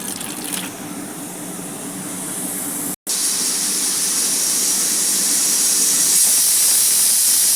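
A pressure cooker whistle lets out a loud, continuous hiss of escaping steam, broken by one brief gap before it rushes on steadily.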